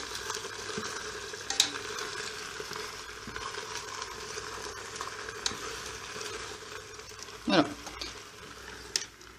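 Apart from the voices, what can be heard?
food frying in a Philips multicooker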